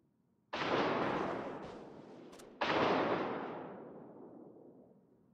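Warship artillery fire in the World of Warships video game during a ranked tier-ten battle: two loud, booming salvos about two seconds apart, each a sharp blast trailing off in a long rumbling decay, with no talk.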